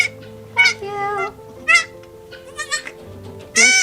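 A newborn goat kid gives several close bleats in uneven bursts. Between the cries there are quieter stretches with a low steady background.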